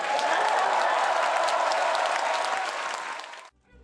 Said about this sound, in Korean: 여러분, 평양에서도 다 들리게 큰 박수를 부탁드립니다.